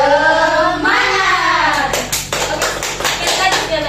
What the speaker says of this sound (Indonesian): Jadi tepuknya begini, tepuk semangat.